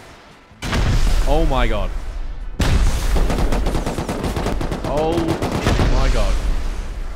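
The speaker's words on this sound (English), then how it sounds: "So if I've got infinite ammo, does that mean I can just shoot constant rockets?" Rockets fired nonstop with infinite ammo on a modded Rust server, a loud, dense string of rapid blasts that intensifies after a couple of seconds while a voice exclaims over the barrage.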